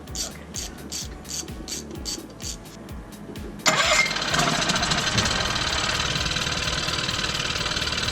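Repeated rhythmic pull-cord cranking of a small dinghy outboard motor with a fuel delivery problem, freshly cleaned carburetor, then the engine catches and runs with a steady buzzing drone.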